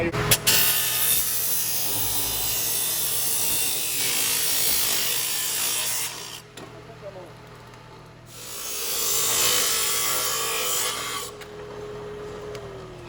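An Everette 3HP 220-volt single-phase saw runs at high speed, stack-cutting three stainless Ductmate 35 flanges at a time. Two long, loud, harsh cutting passes come with a pause between, and the motor hums steadily throughout.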